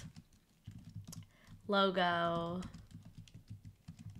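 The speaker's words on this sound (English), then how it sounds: "we'll see how good my typing skills are here" Keys clatter on a computer keyboard in quick, soft bursts beneath a person talking, with a brief tonal sound rising partway through.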